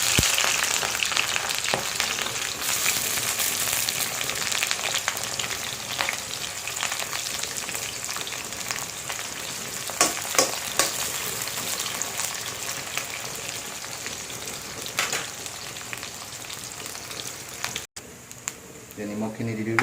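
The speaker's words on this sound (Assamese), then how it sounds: "যিহেতু তেল গৰম হৈ গৈছে, প্ৰথমে আপোনালোকে দিব পিঁয়াজ।" Onions dropped into hot oil in a kadai sizzle and crackle loudly and continuously, with occasional stirring scrapes and bursts, close by, before the frying briefly cuts out near the end.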